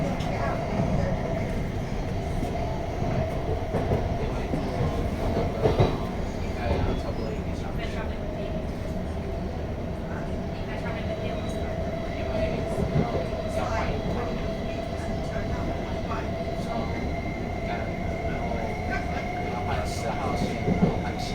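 A Thameslink train runs underground between Luton and Rainham, Kent, with a continuous rumbling roll, a steady tonal whine and occasional clicks and squeals. A voice talks faintly beneath it.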